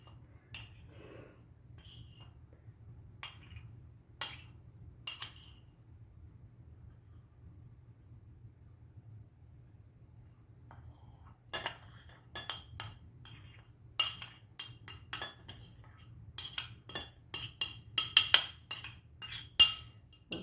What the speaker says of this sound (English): Let's go ahead and put it all in one bowl and get it stirred up.